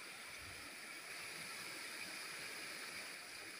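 Steady, dense rush of strongly flowing water, like a nearby waterfall, a constant hiss and roar with no voices.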